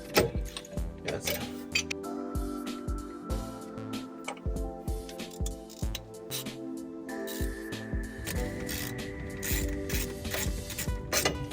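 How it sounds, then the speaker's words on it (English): Spanner ratcheting on the rear shock mount bolts of a BMW E90 with an LS1 swap, a steady run of close, quick mechanical clicks in bursts with brief pauses, no talking. "Spanner in there. Nice and tight."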